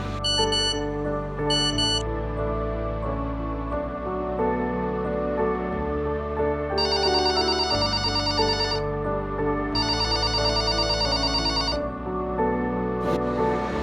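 A phone ringtone for an incoming call plays a loud melodic tone pattern, repeating in phrases with bright high chimes between them, with no voices heard.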